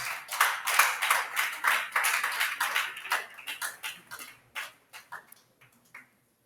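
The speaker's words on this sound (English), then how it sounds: "A round of applause for her." A smallish audience at a town planners' workshop in Oyo State, Nigeria, claps, the applause starting full and steady and then thinning to scattered individual claps before stopping.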